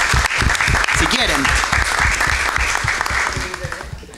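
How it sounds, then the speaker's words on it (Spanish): Applause at a university council session honoring a landscape architecture master's graduate, scattered claps from a modest room mixed under someone speaking over it, fading toward the end. "Así que si podemos aplaudir."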